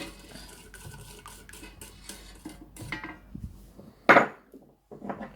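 A spoon stirs a homemade kojic acid skin-lightening serum after water is added, giving soft clinks and scrapes against the container, then one sharper clank near the end.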